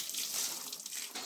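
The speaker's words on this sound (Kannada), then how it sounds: "ಇದಕ್ಕೂ ಕೂಡ ನೀರು ಹಾಕ್ತಾನೆ ಇದ್ದೀವಿ" Water splashing and spraying onto the walls of a farmhouse animal shelter being cured, a steady hissing wash that carries on evenly for the whole moment with no talking.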